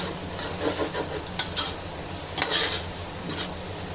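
Onion and tomato fry in a pan with turmeric and salt for chicken biryani, giving a soft steady sizzle broken by several brief scraping stirs of a spoon against the pan, close and without talk.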